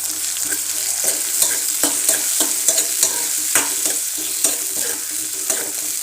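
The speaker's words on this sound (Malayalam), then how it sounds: "അപ്പോൾ നമ്മൾ തക്കാളി അരിഞ്ഞ് വെച്ച തക്കാളി അതിലേക്ക് ഇട്ടു കേട്ടോ" Chopped tomatoes frying in a hot pan, a loud steady sizzle with regular scraping taps of a spoon stirring against the pan, close by and with no voices.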